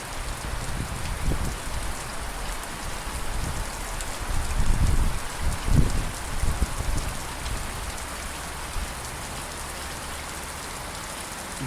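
Heavy rain pours steadily in a backyard during a thunderstorm, a dense continuous hiss of drops on surfaces with a low rumble swelling midway, no voices.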